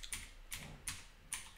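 Four crisp computer keyboard keystrokes in quick, uneven succession, close and quiet, with no talk.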